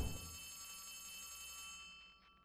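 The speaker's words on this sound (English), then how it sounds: "The phone is ringing." A telephone in the Poppy Playtime Chapter Three horror game rings with a sustained metallic bell tone that starts with a thud and fades out, quiet and alone.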